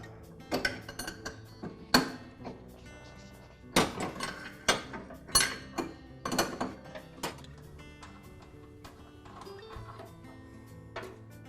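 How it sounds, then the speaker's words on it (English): A wrench removes the nut from the transmission pulley of a Troy-Bilt lawn tractor, producing close, sharp metallic clanks and ratcheting taps in irregular bursts that fade toward the end. "I'll use a wrench to remove the nut"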